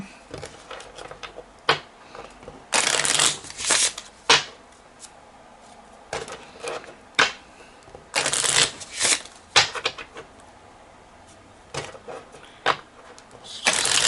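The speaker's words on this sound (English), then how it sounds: "Give it a good shuffle so we can just see what it looks like." A deck of Rainbow Kipper playing cards with a matte finish is shuffled repeatedly, with loud riffling bursts and crisp flutters, interspersed with softer taps and handling sounds.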